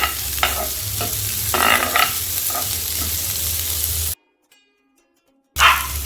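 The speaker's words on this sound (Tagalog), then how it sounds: "Tapos yan, lalagay natin yung bawang at sibuyas. Magkasama na." Garlic and onion hit hot oil for paella, sizzling loudly with stirring scrapes, then a sudden dead silence of over a second before the frying returns.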